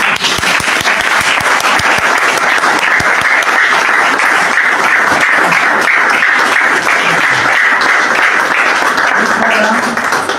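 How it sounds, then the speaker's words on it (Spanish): A conference audience breaks into loud, sustained applause, dense clapping filling the room throughout. "les pido un fuerte aplauso"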